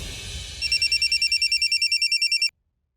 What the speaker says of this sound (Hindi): हमारे बेटे का फोन था।